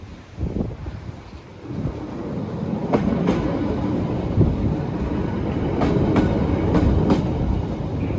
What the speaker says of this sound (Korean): 저희가 아까 탔던 기차였어요.